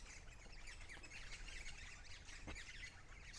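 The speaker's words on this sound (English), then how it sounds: "I'm gonna leave the parrots alone now." Parrots call and chirp in a spring woodland, scattered bright squawks and tweets over a steady hiss of ambient noise, moderately distant, with no talking.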